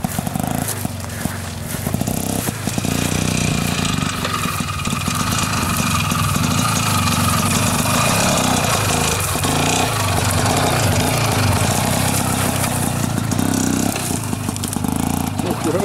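An IZh Planeta motorcycle engine labors loudly up a hill with a rough, revving drone held for the whole stretch, close by, with voices talking over it.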